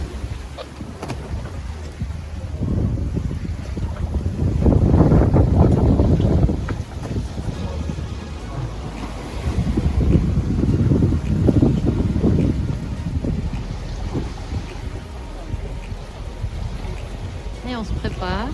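Sailboat under way off Cape Finisterre on the Atlantic coast, with a steady rush of wind and water that swells in two louder gusts, strongest around the middle and again later, with rumbling low buffeting on the microphone.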